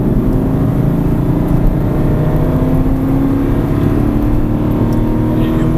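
An Aston Martin V8 Vantage accelerates on a racetrack, heard on board as a loud, steady, deep engine drone that holds throughout with no pauses.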